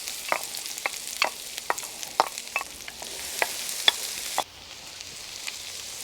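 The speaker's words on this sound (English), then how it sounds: "Now in goes in the onions, peppers, and garlic." Onions, peppers and garlic drop into hot oil in a paella pan, giving a steady soft sizzle broken by a run of sharp clicks and scrapes from stirring. The sizzle eases slightly near the end. Nobody speaks.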